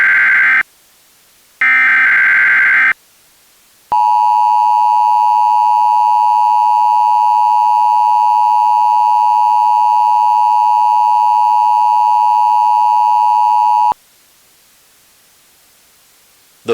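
Emergency Alert System broadcast: three short buzzy digital header bursts, then a loud, steady two-tone attention signal holding for about ten seconds, alone with no voice.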